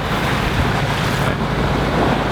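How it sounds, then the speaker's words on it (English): Steep, choppy waves slap against a sailboat as wind runs against the tide, a dense rushing wash of water and wind noise that continues without pause and with no talking. "So we've got wind against tide right now, so you've got these steep little choppy waves again."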